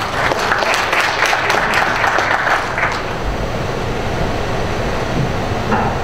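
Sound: audience applause at an inauguration ceremony

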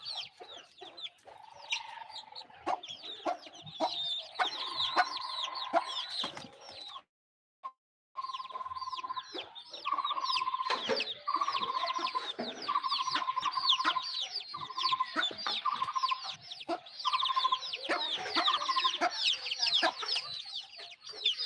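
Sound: chickens clucking on a farm

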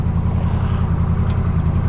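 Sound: Honda Rebel 1100 with Coffman's Shorty exhaust revving

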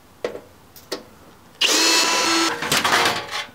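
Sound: drill taking apart an electrical panel

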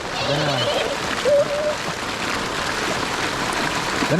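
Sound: heavy rain

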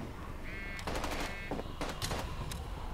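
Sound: gunshots in a zombie survival shooter video game

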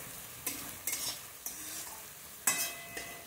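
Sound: onion frying and being stirred in pan

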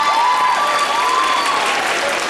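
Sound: audience applause

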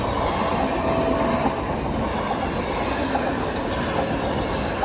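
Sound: train passing at railway crossing

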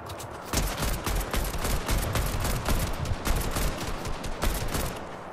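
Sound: AK-47 gunfire from the video game Fortnite

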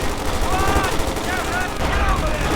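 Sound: gunfire in video game Company of Heroes 2

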